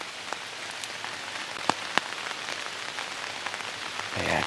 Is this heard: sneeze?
no